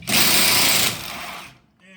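Impact wrench removing bolts on a 2005-2007 Ford F250 frame, a loud continuous rattling burst for about a second, then a softer trailing whir that fades out.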